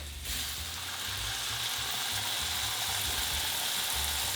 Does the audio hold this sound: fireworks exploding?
no